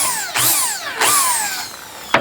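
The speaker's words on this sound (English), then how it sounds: "So I like to pre-drill the holes so that they don't split." Power drill pre-drilling screw holes in wood for plant cages in a hoop house, heard as two close, loud bursts of whining motor that spin up and wind down, then a brief knock at the end.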